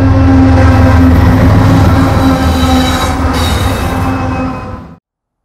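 A CSX freight train rolls past near Vance Tunnel in the Blue Ridge Mountains, a loud, steady rumble with squealing wheels and clattering cars that holds for several seconds and then cuts off abruptly.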